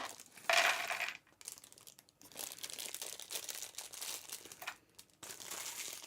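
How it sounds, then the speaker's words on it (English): Plastic parts bags from a LEGO set crinkle and rustle up close, starting with a sharp loud crunch and then continuing as steady handling with short gaps. No one speaks over it. "and this is all plastic bags."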